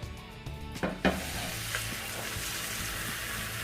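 Maggi noodle omelette frying in a pan, a few knocks and a scrape as it is handled, then a steady close sizzle that settles into a continuous hiss, no speech.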